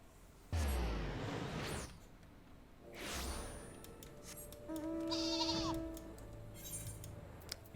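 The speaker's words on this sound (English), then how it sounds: "A cute little sheep." A sheep in Final Fantasy 14 gives several loud, wavering bleats close by, alone over a soft game background with faint whooshing effects.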